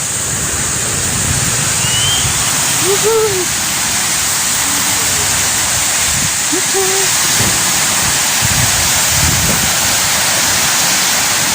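Sea waves and strong wind roar continuously at a seashore, loud and close like a hissing, washing wash, with brief shouts and talk rising over it.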